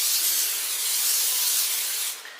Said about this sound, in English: just spray it with some vegetable oil.